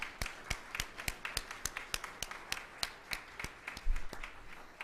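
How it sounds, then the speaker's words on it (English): A modest audience at an Oregon courts event for the CAPTA Citizen Review Panel gives its staff a round of applause: sparse, distinct individual claps in an uneven rhythm, fairly quiet and close, with a brief low thump near the end. "I think our staff need a big round of applause"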